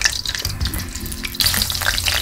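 Garlic is stir-fried in hot oil in a wok, a steady bright sizzle that swells louder partway through as the cloves are tossed.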